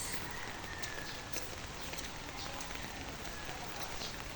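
Steady rain pours down outdoors, a dense continuous hiss of drops striking surfaces, close and fairly loud throughout with no break.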